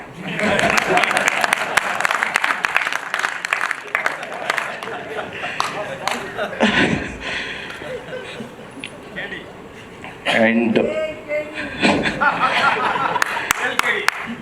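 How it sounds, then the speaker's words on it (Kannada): Audience at a Kannada film event for KD, clapping and cheering around a speaker on stage, loud applause mixed with laughter under continuing speech. "ಚಪ್ಪಾಳೆ"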